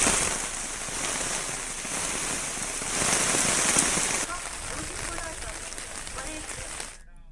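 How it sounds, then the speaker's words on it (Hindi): Heavy, continuous rain pours over a flooded town in Kashipur, Uttarakhand, a dense, steady hiss of drops striking water and hard surfaces, with a voice speaking faintly beneath it. "काशीपुर में हो रही लगातार बारिश से पूरा शहर पानी में डूब गया है।"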